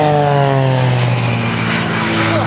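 Blades aerobatic display propeller aircraft fly a crossing manoeuvre feet apart at a combined closing speed above 400 mph, their engines a loud, close drone with pitch sliding downward as they pass.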